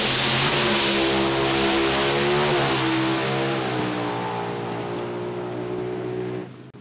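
Drag racing bracket car engine revving hard and close, a loud sustained roar whose pitch climbs and wavers before cutting off sharply at the end.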